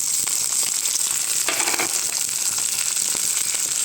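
Sliced small shallots and curry leaves sizzle steadily in hot oil, a dense continuous frying hiss with a brief louder burst partway through, close and alone without any voice.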